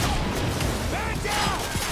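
A shotgun fires in the video game Quantum Break amid a dense, loud barrage of gunfire and effects, with no clear gaps between the booming blasts.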